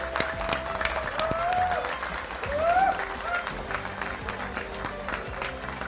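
Applause fills a hall at a tilak ceremony as relatives surround a groom, a dense burst of clapping with crowd noise and a tonal sound sliding over it.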